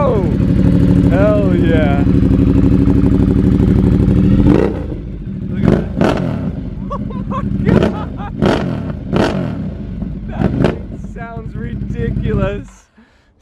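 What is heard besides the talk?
Ducati 1200 V-twin motorcycle engine starting and revving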